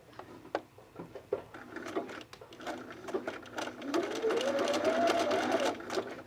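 A domestic sewing machine stitches a Sophie dress at zero stitch length in short, uneven bursts of whirring and tapping, ending in a steadier rising run.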